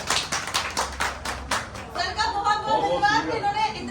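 An audience claps at a property builders' event, a brisk burst of dense clapping lasting about a second and a half before it gives way to a voice speaking and light chatter.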